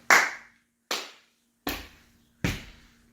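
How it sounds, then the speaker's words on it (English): Four sharp, separate hits land at an even pace during a hip-hop dance lesson: crisp hand claps, with the later beats carrying a heavier, thudding stomp. The room is otherwise quiet between them. "So you can clap with me, okay? Or you can stomp with me"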